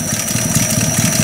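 A Buick Roadmaster engine idling low at low throttle, a steady close rumble with a faint whine on top, alone and without talk.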